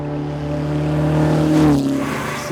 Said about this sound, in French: C'est une voiture de course.